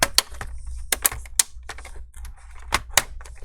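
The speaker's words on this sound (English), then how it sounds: "prying tool to pry it open. I do not want to use the metal." Sharp plastic clicks and snaps as a plastic prying tool pops open the back cover of an HP 15 DY touch screen laptop, with separate crisp cracks spaced irregularly, loud and close.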